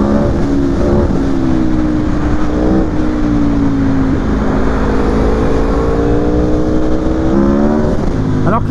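A 2019 Aprilia Tuono V4 Factory 1100 engine roars loudly and steadily, its pitch climbing in repeated surges past 8000 rpm as it accelerates hard through the gears.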